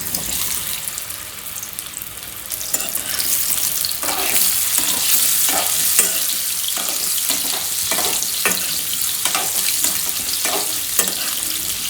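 Boiled baby potatoes frying in oil in a kadai over a flame, a steady close sizzle throughout with repeated scraping and stirring strokes growing busier partway through.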